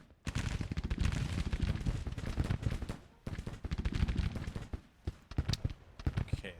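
Gunfire in the Civil War strategy game Grand Tactician, heard as dense, continuous crackling volleys of musketry from many rifles at once, loud and sustained with a couple of brief lulls.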